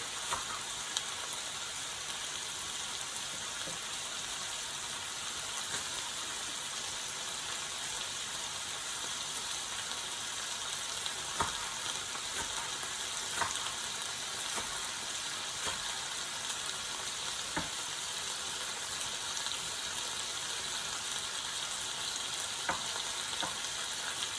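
Pot roast meat sears in a hot pan with a steady, close sizzle, punctuated by scattered pops and crackles over the whole stretch.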